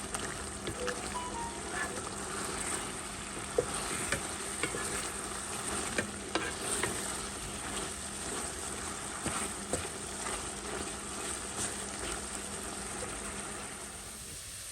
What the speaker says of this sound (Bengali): এখন একটু লাড়াচাড়া করে দিই যাতে মশলাটা ভালো করে মিশে